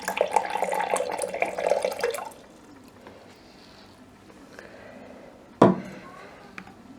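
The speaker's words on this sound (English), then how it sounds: "and we should now have some water dispensed." Water pours from the dispenser of a Hisense RB320D4WW1 fridge freezer in a steady splashing stream for about two seconds, then cuts off, leaving faint room noise and a single sharp click near the end.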